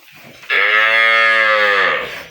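A dairy cow, one of the Friesian, Sahiwal or Sindhi milking cows offered for sale, gives a single long, loud, close moo that holds steady for about two seconds before fading.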